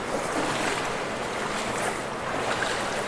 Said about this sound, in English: the water sounds peaceful